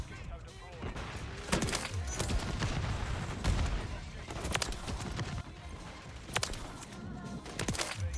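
Dense, rapid bursts of gunfire and impacts in a shooter video game form a busy, continuous battle din, with a person talking over it.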